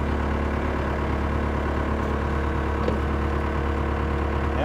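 A skid loader's engine runs steadily while it scoops gravel, a low continuous rumble with a faint scrape partway through.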